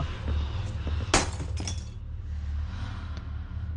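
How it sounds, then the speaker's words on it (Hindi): Glass shatters loudly in a Minecraft horror map, one sharp crash followed by a few smaller tinkling breaks, all over a steady low droning background with no talking. "क्या ही जोर के साउंड है कांच फूटने की"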